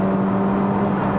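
A 2016 Honda Civic Type R with a turbocharged engine pulls hard through its gears, heard from inside as a steady, loud engine drone with a strong low tone and constant whir, with no voices.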